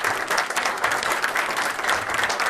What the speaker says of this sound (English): round of applause for what they've done